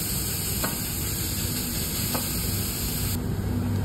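Grated carrots for gajar halwa, also called carrot pudding, sizzle and hiss steadily in a hot pan. The frying noise stays loud and even throughout, with a couple of faint stirring scrapes and no voices.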